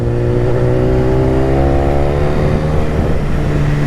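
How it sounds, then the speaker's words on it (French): A BMW S1000RR motorcycle engine revs loud and close, a thick continuous roar with rising and falling harmonic tones holding steady throughout, with no voices. "C'est un truc de ouf cette moto, elle fait un bordel."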